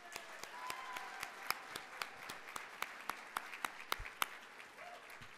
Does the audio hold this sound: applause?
yes